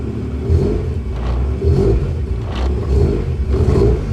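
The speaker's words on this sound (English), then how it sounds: "Let me blip the throttle." A Type 19 Golf GTI with a 2.0 8V engine idling roughly with a slightly rich mixture, then given throttle blips that raise the engine's loud, close rumble in a few uneven surges.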